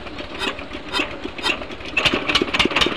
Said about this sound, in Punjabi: ਬਾਈ ਫਿਰ ਜਨਰੇਟਰ ਇੰਜਨ ਸਟਾਰਟ ਕਰਨ ਲੱਗੇ